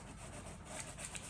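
A soft, continuous rubbing scrape as a tool is drawn over a line on a handmade Valentine card, faint and close, lasting about a second with no speech.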